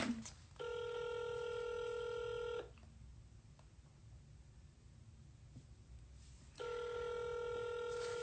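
Telephone ringing in a room, two long electronic ring bursts separated by a few seconds of quiet hiss, faint and somewhat distant, with no talking over them.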